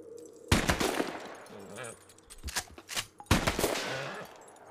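Gunshots in Red Dead Online, several sharp loud cracks spaced unevenly, with a couple of closely grouped shots and quieter game sounds between them.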